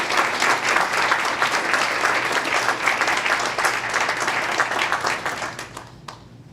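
Loud, sustained applause from a luncheon audience at a charitable foundation event, dense clapping filling the room for several seconds before tapering off abruptly at the end.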